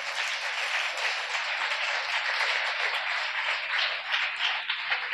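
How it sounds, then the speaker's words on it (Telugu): A church congregation at a Sunday worship service claps loudly and continuously, a dense, steady wash of many hands throughout with no break. "గట్టిగా చప్పట్లు కొట్టండి."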